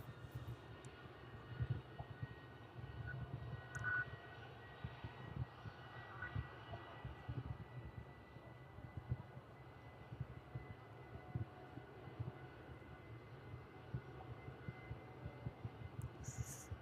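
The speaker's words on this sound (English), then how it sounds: "It's like the DHL 757 just starting up its engines there." Jet engines of a DHL Boeing 757 spin up at an airport, a faint, steady distant roar and hum that continues throughout.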